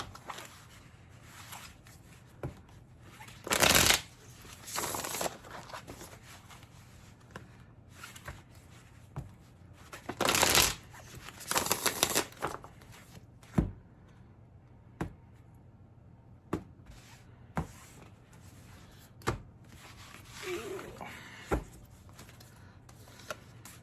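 A Classic Horror Oracle card deck being shuffled by hand, with two bursts of riffling card noise and scattered soft taps and clicks of cards in a quiet room, close and without talk.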